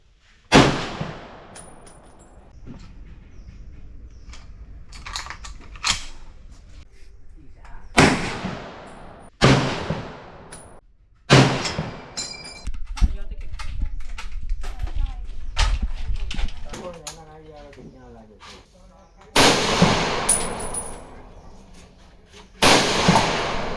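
Gunshots at a shooting range in Saigon ring out as sharp, loud bursts, several single shots and groups spread across the span, with people talking in between.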